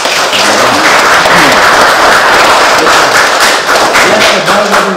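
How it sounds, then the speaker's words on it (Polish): Outdoor crowd at a hot-air balloon fiesta applauding, dense continuous clapping that is loud and sustained throughout, with a few thumps mixed in. "Brawa dla was wszystkich."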